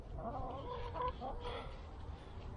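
Backyard hens cluck steadily near at hand behind a fence, a busy overlapping chatter of several birds with no talk over it.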